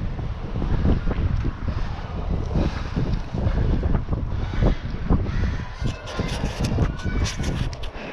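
Strong wind buffets the microphone with low, steady rumbling gusts, loud and continuous throughout.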